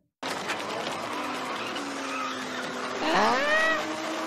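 On the film's soundtrack a race car skids on a wet track, its engine roaring before a loud rising tire squeal near the end, as in a Ford v Ferrari scene.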